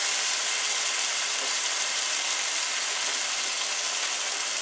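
Cranberries and their liquid sizzle in a pan with mushrooms, a steady broadband hiss of frying that runs unbroken and fairly loud throughout, with no talk.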